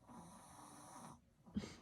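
A child snores softly and steadily in an off-grid home in remote Alaska, a drawn-out rasping breath followed by a brief pause and the start of another.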